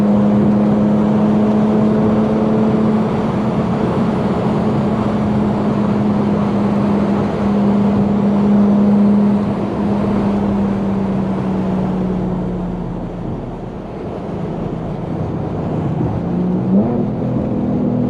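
An Infiniti G37 racing a Toyota Supra keeps up a loud, sustained engine drone from inside the car as it is pushed hard, easing off late before the revs climb again, with no talk.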